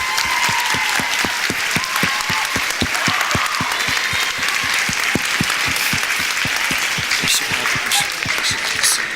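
Sustained applause from an audience honoring the senior members of a high school orchestra at a Beauty and the Beast performance, dense steady clapping filling the whole stretch with crowd noise.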